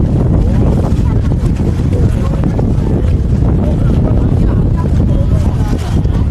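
Strong wind at Cheomseongdae Observatory in Gyeongju buffets the microphone in a constant loud roar, with a rumbling engine-like drone underneath and no pauses.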